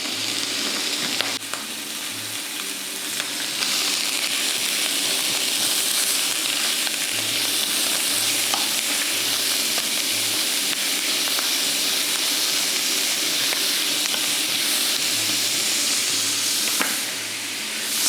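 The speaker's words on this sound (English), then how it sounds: "So hot pan, in goes our meat." Beef mince frying in a hot pan, a loud continuous sizzle and crackle with occasional stirring scrapes, no voices over it.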